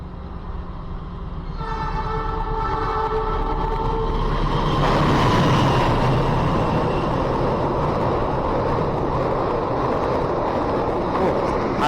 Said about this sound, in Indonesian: Dan kereta api Turangga melintas langsung dari arah sana.